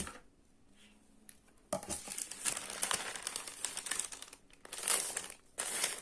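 Pink decoupage paper with a little glitter, crinkled and cut, with soft rustling that swells into louder crackling bursts, close up and without talk.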